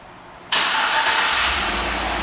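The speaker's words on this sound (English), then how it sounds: "And the car starts right up." A 2011 Chevrolet Avalanche Z71 4WD starts by remote start, with a sudden loud catch of the engine that settles straight into a steady, close idle.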